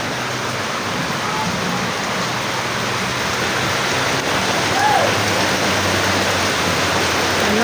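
Steady heavy rain pours down over a flooded neighborhood street, a dense, continuous hiss close by with a faint voice briefly underneath.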